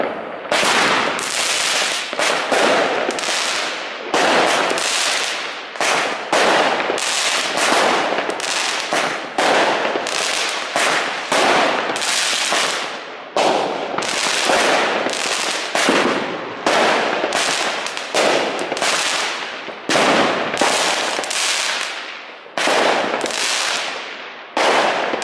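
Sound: New Year's fireworks and firecrackers exploding

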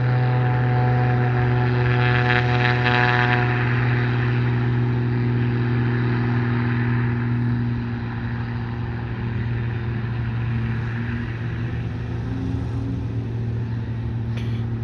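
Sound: propeller airplane engine roaring

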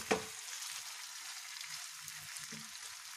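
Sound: stirring stuffed okra in oil in a pan

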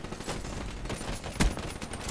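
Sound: Gorgon weapon firing in the video game Black Ops 3

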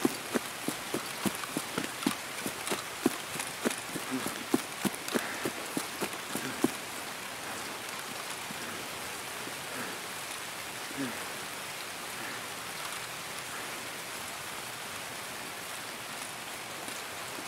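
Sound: rain in the video game Escape from Tarkov

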